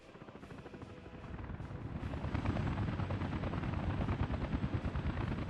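In the city-building game Workers & Resources: Soviet Republic, a helicopter's rotor chops steadily and grows louder as it comes closer, with no talk over it.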